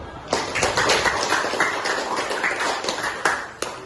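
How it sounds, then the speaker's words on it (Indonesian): Classroom applause for a student group after their presentation: a burst of scattered hand claps from several people, close and lively, tapering off over a few seconds. "Beri aplaus dulu"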